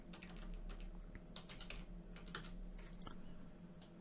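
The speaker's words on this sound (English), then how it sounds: "Press S for sugar on your keyboard, left click" Computer keyboard keys tapped in quick, uneven bursts with a few sharper mouse clicks, close and fairly quiet, recorded while working in Unreal Engine 5 software, with no talking.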